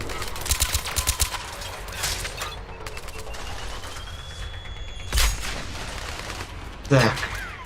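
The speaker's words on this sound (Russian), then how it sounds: "Откуда они еще стрельбу ведут?" Gunfire in the video game Mass Effect 3 comes as rapid bursts of shots early on, then scattered single blasts and a heavy boom near the end, all loud and close over a busy background.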